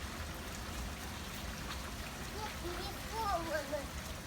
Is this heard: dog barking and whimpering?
no